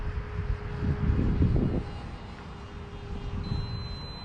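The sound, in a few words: A-10 Warthog aircraft engine at takeoff, from a flight video game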